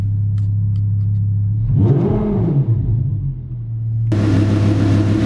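A 2011 Audi R8 V10 engine, warmed up, idles with a low, steady rumble, then is revved hard once, rising and falling, before a loud roaring burst near the end.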